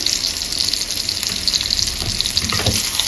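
Hot tadka tempering is poured over chickpeas for a chana palak dish, giving a loud, continuous crackling sizzle that lasts throughout.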